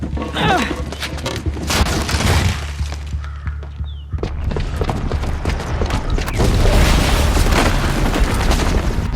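A booby-trapped bomb goes off in Horizon Zero Dawn, a loud deep boom followed by rumbling, crashing debris and mechanical clatter that builds again into a dense, sustained roar.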